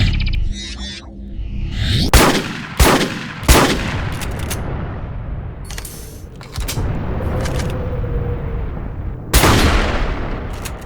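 Repeated shotgun blasts in a first-person shooter game, several loud sharp reports spaced irregularly over a dense, continuous game-noise bed, with no talk.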